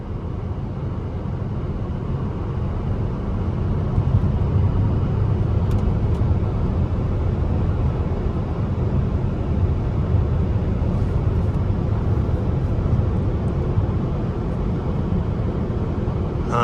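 Steady, broadband road and tire rumble fills the cabin of a 2011 Mercedes E350 4Matic on Michelin tires as it cruises, a loud, even hum with no engine surges and no talk.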